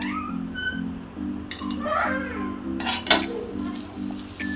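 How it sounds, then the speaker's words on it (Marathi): Butter melts and sizzles softly in a frying pan over a low gas flame, a faint crackle under a steady low hum, with a single sharp clink of a utensil midway. "स्लो गॅसवर इथं आपण फ्राय पॅन गरम करायला ठेवलं आहे आता यावर आपण बटर घालून घेऊया"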